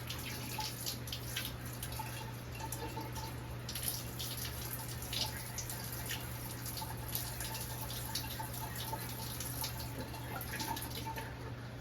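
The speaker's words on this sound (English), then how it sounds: "I'm gonna put on some lukewarm water, and I'm gonna fill the water up just over top of the copper line" Lukewarm water pours steadily into a container, a constant close hiss and trickle with faint splashes throughout and no voices.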